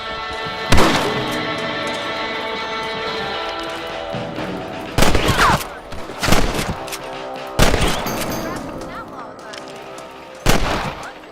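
Loud gunshots ring out in the Red Dead Redemption western video game, four or five sharp blasts spaced a second or two apart over a steady musical score, with a voice speaking between them.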